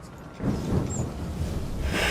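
Thunderstorm at sea in the video game Assassin's Creed 3: a steady, loud roar of wind and rain with low rumbling thunder, swelling in after a quiet start and continuing without voices.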